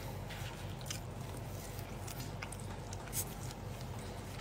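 Close, wet chewing and biting noises come from someone eating ramen and pizza, a steady mushy mastication with small crunchy accents, over a constant background hum.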